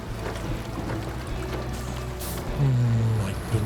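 Water splashes and pours around a Tatarin truck as it drives through a deep crossing on a Wisconsin forest map in SnowRunner. The engine note rises and grows louder near the end, and no one talks.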